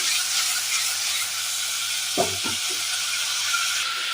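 Ingredients for a chicken stew are sautéed in a pan, giving a bright, steady sizzle with a few quick stirring clatters midway.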